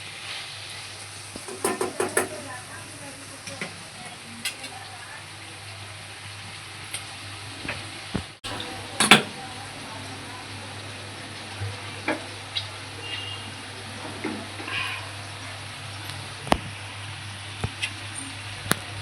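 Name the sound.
stirring capsicum and besan bhaji mixture in a pan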